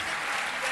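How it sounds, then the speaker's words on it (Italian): Audience applause fills a theatre during a live talk-show stage event, a short dense burst of many hands clapping at steady loudness with no voices over it. "Facciamo un applauso a Marcolino, ragazzi."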